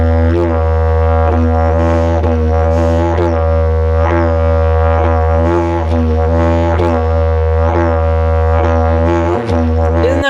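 A didgeridoo drones steadily in a slow do-do-wah breathing rhythm, loud and close, with the low fundamental held throughout and repeated vocal-shaped pulses riding on top, played alone without talk.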